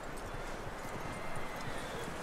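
Horse hooves clip-clop at a walking pace in Red Dead Redemption 2, soft and rhythmic, over a steady background wash.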